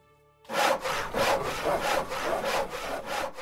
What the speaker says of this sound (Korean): 쓱싹쓱싹 하는 톱질 소리와 대패질 소리가 온 마당에 울려 퍼졌습니다